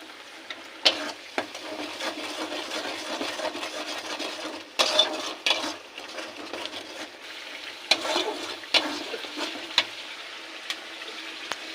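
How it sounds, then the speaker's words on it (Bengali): Ginger, garlic and onion paste with biryani masala sautés in a pan for chicken biryani, a steady close sizzle punctuated by stirring clacks and scrapes, no voices. "আদা রসুন পেঁয়াজ বাটা এটা হচ্ছে বিরিয়ানির মশলা কষাচ্ছি"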